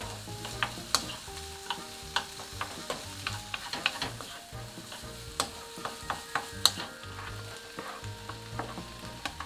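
Zucchini and ham stir-fried in a pan, with a utensil clicking and scraping against the metal in a regular rhythm over a soft continuous sizzle, close and without speech.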